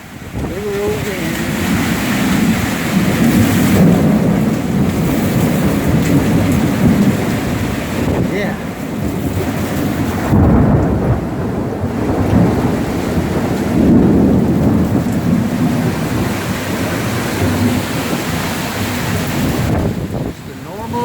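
Steady summer rain storm in Central Florida on a Sunday morning, with thunder and wind noise, a loud continuous wash of rainfall throughout, and a brief voice speaking near the mic.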